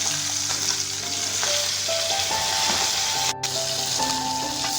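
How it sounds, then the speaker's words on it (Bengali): Fish pieces, including fish heads, fry crisp in hot oil in a pan for a Bengali fish-head curry with brahmi greens; a steady, close, continuous sizzle runs throughout with no talking. "মাছগুলো একে একে উল্টে পাল্টে কড়া করে ভেজে নেব।"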